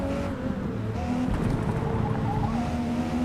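Race cars in the Forza Motorsport video game roar close together in a continuous loud engine drone, with shifting pitch as they jostle for position and a faint tire squeal, no voices.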